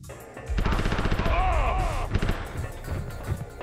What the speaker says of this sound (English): most of the time, I'm getting shot from off screen, like here